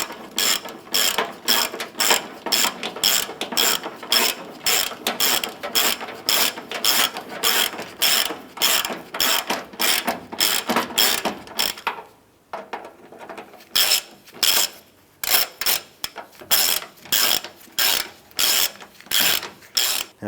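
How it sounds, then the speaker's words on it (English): Socket ratchet threading and tightening a tailgate cable bolt on a 2004-2012 Chevrolet Colorado: rapid, close, steady clicking in quick repeated strokes, with a brief pause partway through before the clicking resumes. "I'm going to go ahead and start threading this bolt in."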